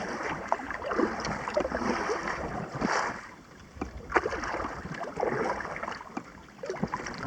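Gusting wind sweeps across Clear Lake while a canoe or kayak is paddled, a steady broadband rush that swells and eases in waves, with soft paddle and water sounds mixed in and no voices.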